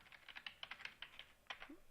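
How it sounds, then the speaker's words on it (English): Soft, quick keystrokes on a computer keyboard tick along in a steady, slightly irregular run, close but faint, with no talking. "So I'm going to start typing up some requirements here."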